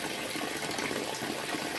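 Water from an indoor garden hose with adjustable temperature runs in a steady, even rush that stays constant throughout, with no voices.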